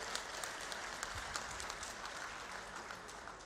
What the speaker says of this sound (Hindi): एक बार जोरदार तालियां बजाकर आप सब लोग स्वागत करेंगे